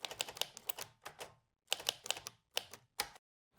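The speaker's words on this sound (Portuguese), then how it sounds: "adicionar um som de digitação" Typing keystrokes added as a Foley sound effect: quick clusters of crisp clicks in irregular bursts with short pauses between, close and fairly quiet, alone with no voice.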